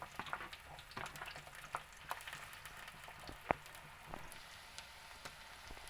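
Onions frying in hot oil in a pan for dosa potato masala, a steady soft sizzle with scattered crackles and pops and occasional stirring scrapes, fairly quiet and close, with no talking.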